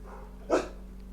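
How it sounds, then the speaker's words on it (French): A pet dog gives a single short bark in the background behind a gamer, one sharp yap rising briefly above a quiet room hum. "J'ai mon chien qui aboie derrière."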